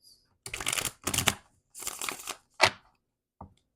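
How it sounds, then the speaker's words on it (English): Tarot cards shuffled close up in four or five crisp riffling bursts, each under a second, separated by short silences, ending with a faint tap. "I love hearing card shuffle."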